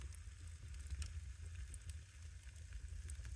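Potatoes frying on a cabin stove give a steady, quiet sizzle with soft crackles and pops throughout, heard close up with no talking.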